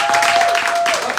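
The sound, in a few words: applause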